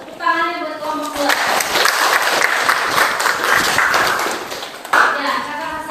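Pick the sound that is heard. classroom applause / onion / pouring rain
classroom applause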